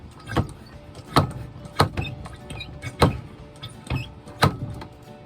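A garden pressure sprayer being hand-pumped, with about eight evenly spaced rhythmic strokes, each a short hissing, clunking push, close and moderately loud, with no talk.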